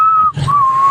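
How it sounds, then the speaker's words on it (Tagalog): A person whistling after eating polvoron during a party challenge game, a clear close tone broken by a brief gap, then one more sustained note. "Kapag nakain na nila ang pulburon, sila ay dapat Sumipol!"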